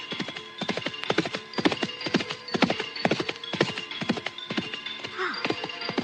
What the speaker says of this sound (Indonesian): gerobak kuda itu